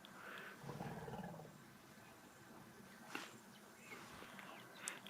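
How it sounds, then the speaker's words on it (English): A female elephant rumbles at close range on a safari drive, a deep, low, drawn-out growl, very faint against quiet bush ambience, with a couple of brief sharper calls or clicks near the end. "I hope you heard that rumbling from that female that passed here before."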